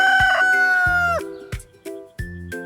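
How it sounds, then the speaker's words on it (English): A rooster crows nearby, one long strained cry that breaks off into a few shorter clucking calls, loud and alone. "The rooster says,"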